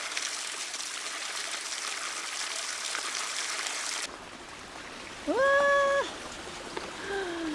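A stream flows through a summer forest valley in Hongcheon, Gangwon Province, a steady rushing wash that drops to a quieter trickle partway through, with brief tonal chirps or calls near the end.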